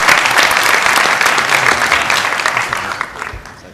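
Enthusiastic audience applause at a talk event, loud dense clapping from a large crowd that starts strong and gradually fades over several seconds.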